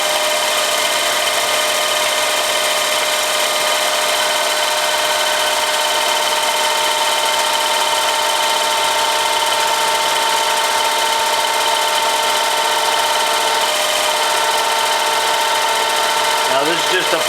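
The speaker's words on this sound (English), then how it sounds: "Now this is just a pilot drill." A pilot drill turns on a Benchmaster mill, giving a steady, unbroken machine whine with a constant motor hum. It holds at a loud, even level for the whole stretch.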